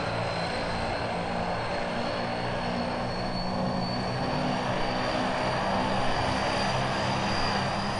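Thai Airways airliner engines run at full throttle in the BeamNG.drive driving game, a loud, continuous, even roar with a constant whine that holds for the whole stretch.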